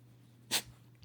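A pet dog gives a single short, sharp sneeze, close and brief over a quiet background hum.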